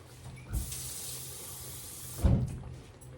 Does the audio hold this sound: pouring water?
yes